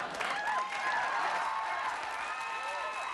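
A studio audience applauds and cheers steadily and densely throughout, a continuous wash of clapping with a few whoops rising above it.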